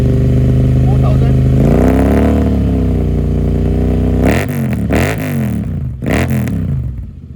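A Royal Enfield 650 twin, a Continental GT 650 or Interceptor, runs with an aftermarket exhaust, idling steadily before the revs climb, then gives several sharp throttle blips and falls back, close and loud.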